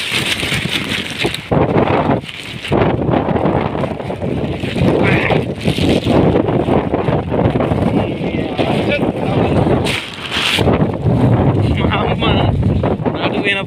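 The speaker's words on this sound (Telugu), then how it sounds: "అది గాలి కొట్టు మిట్టాడుతుంది డేంజర్గా" Strong gusty wind batters the microphone outdoors during floods, a loud, continuous roar with brief dips, while a person speaks underneath.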